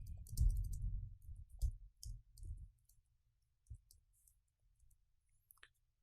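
Scattered clicks of keys being typed on a computer keyboard, a quick burst of taps at first and then sparse, quiet single presses, close and faint with no talking.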